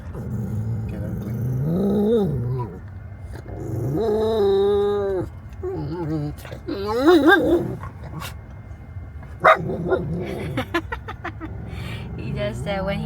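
A dog whimpering, whining and yipping with occasional barks and growls, close and loud, in rising and falling cries over about thirteen seconds, with people talking in the background.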